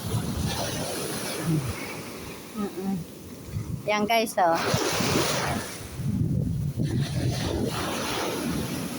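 Strong ocean waves breaking at a beach, a steady rushing wash of surf with wind buffeting the microphone, running beneath people talking close by.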